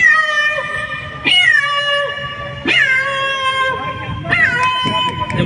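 A person vocally imitates a cat, giving three drawn-out meows in a row, each rising sharply then falling away, loud and close with a bright, tonal pitch.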